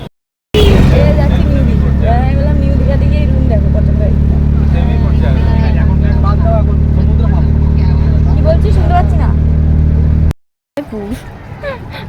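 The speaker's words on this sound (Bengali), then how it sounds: "অটো করে এখন যাচ্ছি উদয়পুর" An auto-rickshaw rides along the road to Udaipur, its engine droning steadily and close under continuous chatter from passengers, cutting out briefly near the end.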